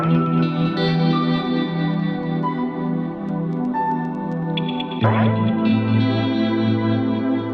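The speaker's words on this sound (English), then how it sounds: "With the guitar and the pad." A sparse piano melody sits over a dense, steady bed of effected clean electric guitar with reverb, delay and tremolo, plus a sustained synth pad, with a chord change and brief swell near the end of a slow beat.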